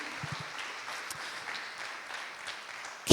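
A church congregation at an evangelical Spanish-language service claps for the Lord, a soft, diffuse patter of many hands heard from a distance, fairly faint and continuous throughout.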